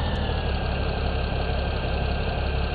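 A tractor engine in Farming Simulator 17 runs at a steady idle, loud and continuous throughout with a droning mid-range hum and no talk over it.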